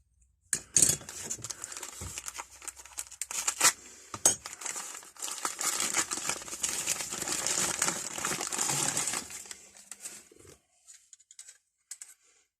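Packaging from a parcel of eBay tools crinkles and rustles up close in irregular bursts, with scattered light clicks and clinks of handled items between quieter pauses.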